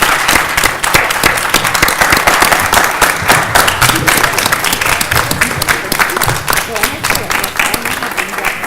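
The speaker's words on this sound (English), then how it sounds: "please join me in giving a round of applause for our outstanding panel today" Audience applause for a panel at a university presidents' forum in a hall, dense sustained clapping filling the whole stretch at close, even loudness, with some crowd murmur mixed in.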